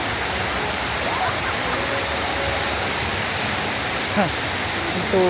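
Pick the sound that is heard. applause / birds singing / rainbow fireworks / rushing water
rushing water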